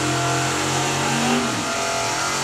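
A drag racing car's engine roars down the strip, a loud sustained drone whose pitch climbs and then slides away as the car passes, no voices heard.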